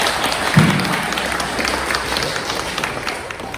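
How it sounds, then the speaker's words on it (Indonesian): Audience applause for the fathers at a Father's Day gathering on parenting with love, steady dense clapping filling the room from start to finish. "Mungkin izin aplaus buat para ayah semua-semuanya"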